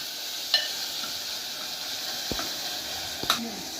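Spice tempering with cumin sizzles in a pan for a stuffed eggplant and potato curry, making a steady close hiss broken by a few sharp utensil clicks.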